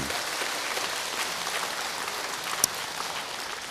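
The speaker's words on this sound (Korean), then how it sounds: "박수 한번 주세요." An audience at a lecture applauds, a moderate, even patter of many hands heard from a little distance, with one sharp knock standing out near the end.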